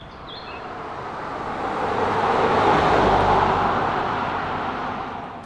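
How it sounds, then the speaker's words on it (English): An all-new Land Rover Defender driving off-road, a steady broadband rumble of engine and tyre noise that swells gradually to a peak midway and then eases slightly, with no talking. "really impressed on how comfortable off-road driving is still with this vehicle"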